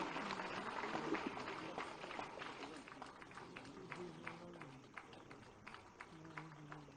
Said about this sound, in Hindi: आप सबकी जोरदार तालियों के साथ।